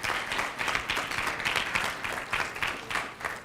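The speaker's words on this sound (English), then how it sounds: "could you give a round of applause to those 13 candidates?" Audience at a student government senate meeting applauds student trustee candidates. Many hands clap in a dense, lively wave with slight swells and no talk over it.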